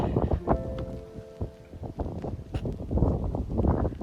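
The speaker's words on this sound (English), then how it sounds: "the late Meltemi wind's still blowing in across the island of Santorini" Strong Meltemi wind gusting across the Santorini coastline between Kamari Beach and Vlychada, buffeting the microphone in loud, uneven rushes with rustling and brief tonal hums, no voices.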